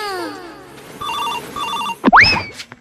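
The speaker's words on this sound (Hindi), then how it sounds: "रुको यार फोन आ रहा है" A phone rings with a short repeating electronic ringtone pattern, preceded by a brief musical sting and followed by a sharp whooshing comedic sound effect.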